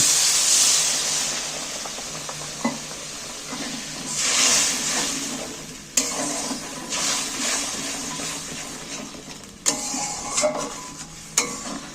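Water poured into frying moong dal with spinach in a pan sets off a loud steamy hiss that swells and fades, broken by scraping spatula strokes and a few sharp clanks, no voices.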